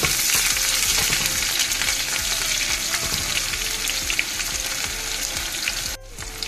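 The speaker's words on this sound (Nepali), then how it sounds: "मजाले प्याज र आलु चाहिँ सँगसँगै जस्तो नै फ्राई गर्छु" Onions and potatoes fry together in hot oil in a pan with a loud, steady sizzle and occasional stirring scrapes, close by and without speech, dipping slightly near the end.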